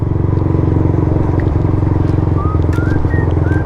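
A motorcycle engine idles steadily after sitting unused for about a week, a close, continuous low chugging with a few faint higher whines over it.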